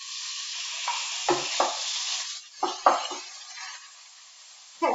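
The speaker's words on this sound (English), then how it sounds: "it should be hot enough where you hear that sizzle" Hissing, crackling sizzle of chicken frying in a pan, close up, with occasional clinks and scrapes as pieces are stirred or moved.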